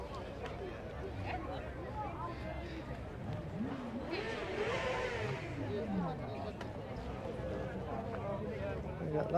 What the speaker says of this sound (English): the beauty of Mustang is the sound it makes